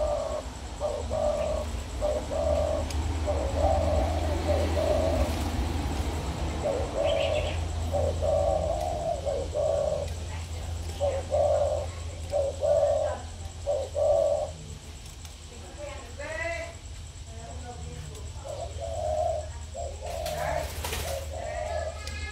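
Breeding doves coo in repeated low, rhythmic phrases, close and steady across the clip, with a few brief higher chirps and a constant low background hum; no talking.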